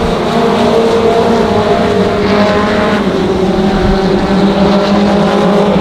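Race cars lap Monarch Motor Speedway, running three wide down the back straightaway into turn three, a loud, continuous multi-engine roar with shifting pitch that stays dense throughout, with no voices.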